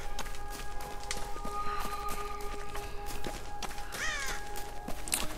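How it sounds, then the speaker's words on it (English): A crow caws in the video game Tomb Raider, harsh calls repeating over a busy bed of game ambience and footsteps, the loudest cry coming near the end. "Shut up, Crow!"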